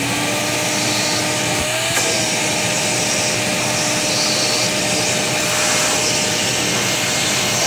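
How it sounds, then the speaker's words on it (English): A shop vacuum whirs steadily at close range, sucking up concrete drill dust, a constant airy roar with a faint tonal whine and one brief knock. "using shop vac, vacuum up the dust"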